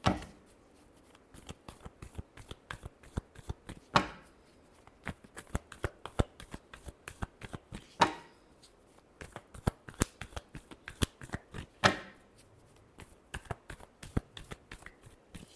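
Tarot cards being shuffled by hand, a quick continuous riffle of flicking taps with periodic louder slaps as the deck is squared, close and clear with no talk over it.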